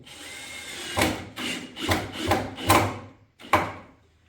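A power drill drives screws into a wooden table-style safe in a series of short bursts, about six quick whirs spaced half a second apart, close and fairly loud.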